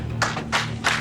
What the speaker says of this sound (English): they broke into a round of applause